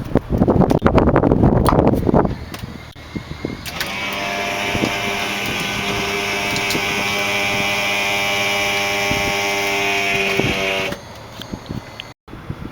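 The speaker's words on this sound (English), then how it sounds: "in order to lubricate the stuff on the wings, we're going to have to lower the flaps. So let me do that now." A 1978 Cessna R182 retractable-gear plane has its wing flaps lowered by an electric motor, giving a steady whining hum of about seven seconds that starts and stops abruptly after some nearby handling noise.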